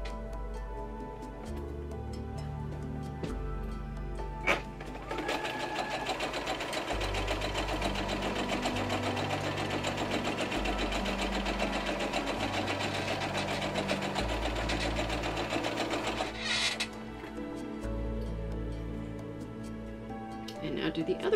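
Sewing machine with a piecing foot stitching a quarter-inch seam on an Ohio Star quilt block, a steady fast mechanical whir running through most of the stretch, with a short pause, fairly close.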